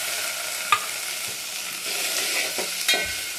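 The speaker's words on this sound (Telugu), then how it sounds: "ఇదిగో ఆనియన్స్ అయితే వేస్తున్నాను ఇంకా పచ్చిమిర్చి" Onions and green chillies frying in ghee in a pan, a loud continuous sizzle with a few sharp utensil taps and scraping stirs, no talking.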